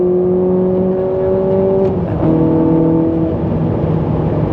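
A Ferrari 458 Italia engine holding a steady high drone at speed, then easing off as it slows into curves, close and loud throughout.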